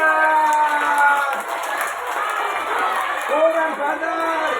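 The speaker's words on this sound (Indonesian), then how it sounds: "Tepuk tangan." Children at a school Isra Mi'raj event clapping and cheering together, a loud sustained burst of applause and shouts close by, with an adult voice over the noise.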